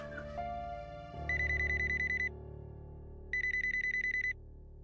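Indoors, a telephone rings in two bursts of rapid electronic trilling with a pause between them, loud and near over a low background hum.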